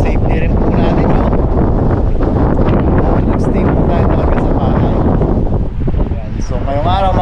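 Strong sea wind roars across the microphone aboard a small fishing boat after a typhoon, a loud constant rush with faint voices partly buried beneath it.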